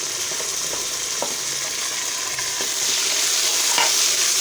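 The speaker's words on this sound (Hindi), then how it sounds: "अब इसमें हम डाल रहे हैं टमाटर, इसको भी अच्छे से इसमें पकाएंगे।" Onions and tomatoes fry in a pan, a steady close sizzle running throughout with a few soft stirring knocks and scrapes of a spoon against the pan.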